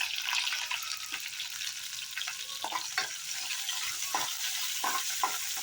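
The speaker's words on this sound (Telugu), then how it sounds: "బాగా వేగనివ్వాలి." Green chillies and onion pieces frying in oil in a pan, with a steady close-up sizzle and scattered spatter crackles and occasional stirring scrapes throughout, no voices.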